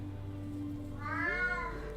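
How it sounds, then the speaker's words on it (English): An indoor cat gives a single drawn-out, close meow that rises and bends in pitch, over a steady low background hum. "You can't go outside. You're an indoor cat."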